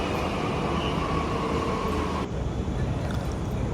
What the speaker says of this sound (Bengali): মেট্রোগুলো কিন্তু প্রত্যেক চার পাঁচ মিনিট পরে পরে আসি থাকে